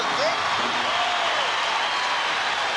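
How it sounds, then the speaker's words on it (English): Applause and cheering from a rodeo crowd at Mesquite Rodeo after a ride, a steady broad roar of clapping throughout, somewhat distant, with an announcer's voice faintly mixed in. "Crowd shows their approval."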